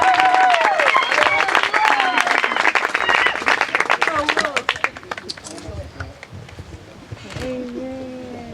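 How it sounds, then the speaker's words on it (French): Guests at a church wedding ceremony clapping in a lively burst that tapers off after several seconds, followed by people speaking. "Est-ce qu'on peut les applaudir?"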